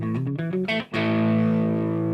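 An electric Telecaster thinline guitar played through a distortion pedal with an HBE Detox EQ plays a few short picked notes, then lets a sustained distorted chord ring on loudly.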